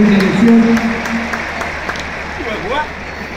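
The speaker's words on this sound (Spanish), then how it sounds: "Un aplauso al Coco Basile, entonces, que no pudo estar presente en una elección." Audience applause at a farewell event for Battaglia, as a yellow team is presented, a steady crowd clapping that fades a little toward the end, with a voice talking over the first second.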